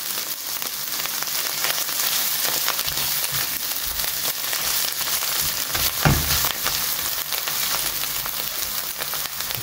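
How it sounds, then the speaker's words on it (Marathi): Ginger garlic paste frying in a pan, a loud dense close sizzle that crackles steadily throughout, with a brief stir-like thump partway through and no talking. "जिंजर गार्लिक मातशे फ्राय झालाय"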